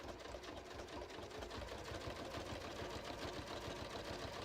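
A sewing machine hums continuously and faintly, stitching along the edge of ornament-shaped pieces for handmade holiday cards, with a steady fine mechanical patter.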